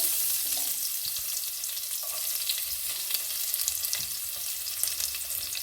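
Sliced garlic and ginger sizzle in a frying pan, a steady bright crackle and hiss with small pops scattered throughout, heard close and alone.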